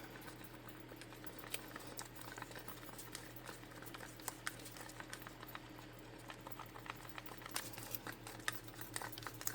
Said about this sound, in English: Now I'm going to get each color stirred up really good into my resin